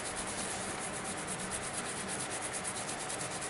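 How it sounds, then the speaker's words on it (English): Steady close scrubbing of a toothbrush worked back and forth over a tobacco pipe in a shop, a dense continuous rasping rub with a fast even rhythm and no talking. "And then I get a toothbrush. And anyone can do this with their pipes. Basically, this gets all this in the cracks and crevices."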